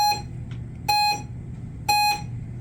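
A timer sounds three sharp electronic beeps at roughly one-second intervals, loud and close, over a low background hum with no talk.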